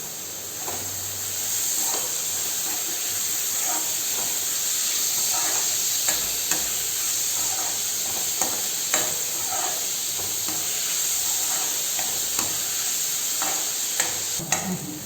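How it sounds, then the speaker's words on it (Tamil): Finely chopped large onions sauté in ghee in a pan for a mushroom white kurma, a constant close sizzle and hiss broken by scattered clicks and scrapes of stirring, with no talking. "வெங்காயம் பாருங்கள் நல்லா வதங்கி வந்துருச்சுங்க."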